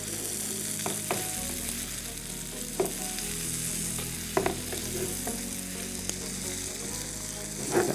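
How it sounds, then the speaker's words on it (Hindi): Okra (bhindi) fries on low heat with a soft, steady sizzle and a few gentle stirring clicks and taps, near and alone. "बस इसी तरह आपने फ्राई करना है हल्की आंच पे"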